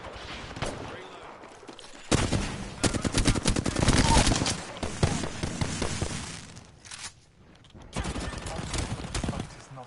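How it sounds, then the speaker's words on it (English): Rapid gunfire in an Apex Legends match, loud bursts of automatic shots from about two seconds in, dense and sustained, easing off briefly before another volley near the end, with game voice lines in the mix. "Being shot at."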